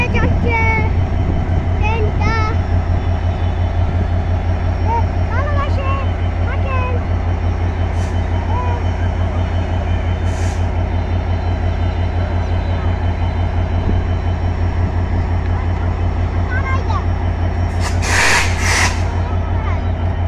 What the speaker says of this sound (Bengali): জয়দেবপুর ট্রেন স্টেশন থেকে ছেড়ে যাচ্ছে ট্রেনটি